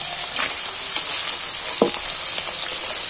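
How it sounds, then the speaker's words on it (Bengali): Chicken skin and chopped onions fry in a pan, giving a loud, continuous hiss of sizzling oil up close, with a few faint stirring clicks and no talking. "এতে যত নাড়তে থাকবে ততই তেল বেরিয়ে, যত ভাজা হবে।"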